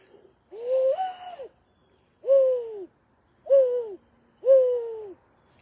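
Four hollow, cooing notes of a mourning dove call imitated by hand whistling, each a smooth rising-then-falling tone separated by short silences, clear and close with no talking.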